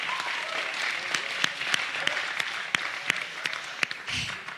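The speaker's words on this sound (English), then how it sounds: "Let's give them a round of applause." Applause from an audience at a high school pitch night, a steady patter of many hands filling the room with a few sharper claps standing out.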